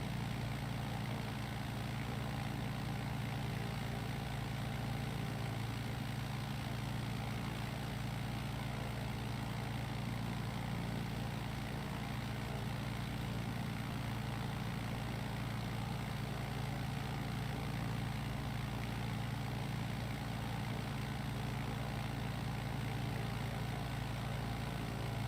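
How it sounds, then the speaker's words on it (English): A light aircraft engine running steadily during a low, slow flight over the Colorado River, a constant droning hum with a strong low tone and broad noise, loud and unbroken throughout. "I can hear an engine."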